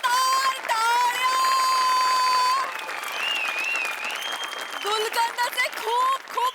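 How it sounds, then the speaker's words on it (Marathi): Audience applause at a comedy stage show: a sustained burst of clapping from the crowd, mixed with music and voices, then fading into scattered claps. "जोरदार टाळ्या!"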